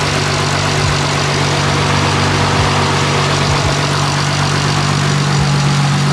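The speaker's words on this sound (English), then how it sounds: "Just so you guys can hear what the fan sounds like currently before I change it." Mishimoto radiator cooling fans run on a Nissan 370Z in a steady, loud, continuous whir with a low hum underneath and a few faint thumps. No one speaks.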